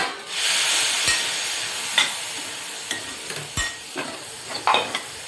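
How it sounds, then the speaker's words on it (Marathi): Spices sizzle in a hot pan as hot water goes in, a burst of steamy hiss followed by close stirring with several sharp clinks of a spoon against the pan, no talk. "छान असं आपण ढवळून घेऊया"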